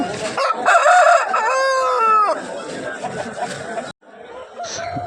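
A rooster crows loudly and close by, one long drawn-out call at a busy village poultry market in Gokavaram, with chatter and other birds around it.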